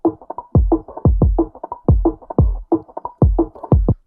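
A hyperpop drum loop runs through a filter that cuts away the highs, leaving a muffled, darker beat. Boomy kicks and dull mid-range hits repeat in a steady, bouncy pattern, with no voice over it.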